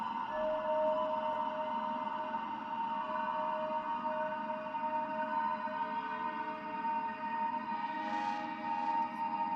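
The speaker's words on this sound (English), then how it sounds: "Hear that little bit of distortion?" Singing bowl tones from a Tibetan singing bowl app on iOS are run through a fuzz distortion effect, giving a sustained, buzzing, ringing drone that holds steady and loud throughout.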